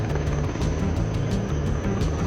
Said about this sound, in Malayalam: ഹെലികോപ്റ്റർ ലാൻഡിങ്ങിനൊക്കെ ഡെമോൺസ്ട്രേഷൻ നമുക്ക് കാണിച്ചു തന്നുകൊണ്ടിരിക്കുകയാണ്.